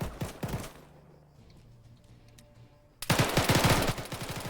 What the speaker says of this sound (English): they're firing at the barn now